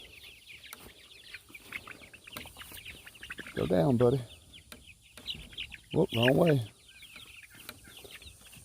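Freedom Ranger chickens in a brooder house give two short bursts of clucking, close and fairly loud, with quieter background chatter from the flock while someone talks to them.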